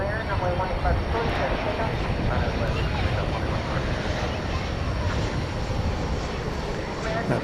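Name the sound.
airplane taking off from the runway at DFW Airport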